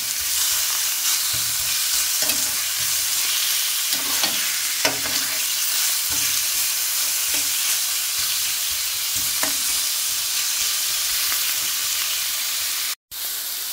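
Meat is sautéed with browned onions and garlic in a pan, giving a continuous loud close sizzle with occasional soft stirring scrapes. A brief break comes near the end, with no talking.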